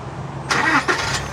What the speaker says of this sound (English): Boom, it started up the car.